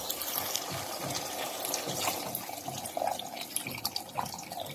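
Water is poured into a pan of chicken in a soft, continuous splashing trickle with small uneven bursts, close by and fairly quiet, with no one speaking.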